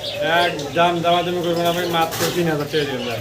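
Sirazi pigeons coo close by, loud overlapping throaty calls that rise and fall continuously throughout.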